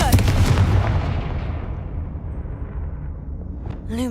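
A Confringo fire spell from Hogwarts Legacy bursts out as a heavy booming blast that rumbles and decays over a few seconds, followed by a short rising magical swish at the end.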